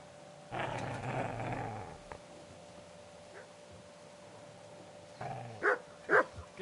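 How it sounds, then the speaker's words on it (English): A dog in the medieval video game Kingdom Come Deliverance lets out a long, low growl, then after a pause gives a few sharp barks and snarls, loud and close. "Get away, you mutt!"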